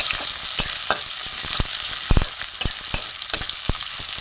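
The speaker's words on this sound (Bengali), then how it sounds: "পেঁয়াজ দেবো দিয়েছি দিয়ে একটু ভেজে নিই" Onion frying in hot oil in a wok for radish chops, a loud close sizzle with repeated sharp stirring scrapes and knocks at an uneven rhythm, no talking.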